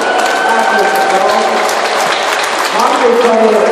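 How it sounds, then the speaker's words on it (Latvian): Applause from the crowd at a hockey tournament award ceremony for Riga hockey school players, a loud, continuous wash of clapping that stays thick and even from start to finish. "Aplausos."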